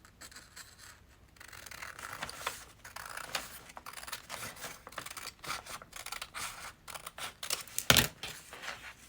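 Scissors cut away part of a handmade paper bag close up, giving quiet scratchy snips in short uneven bursts, with a sharper crisp snap near the end.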